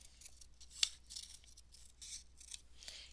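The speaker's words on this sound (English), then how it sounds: "Please take your time cutting your circle out." Scissors snipping around a paper circle cut out for a craft, a series of soft crisp cuts spaced about half a second apart with one sharper snip early, close and quiet.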